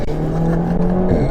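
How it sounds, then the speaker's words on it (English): A 2019 Renault Megane RS Trophy hatchback launching hard in sport mode after a downshift, steady loud engine roar with a sustained droning note held close throughout. "you put your foot down sports mode, it drops the gear for you in order to just launch it"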